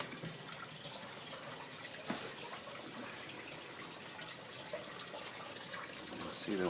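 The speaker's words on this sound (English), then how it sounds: "See the water is trickling" Water trickling steadily into a sump pump basin under plastic sheeting in a flooded crawl space during spring flooding, a soft continuous wash with faint drips close by.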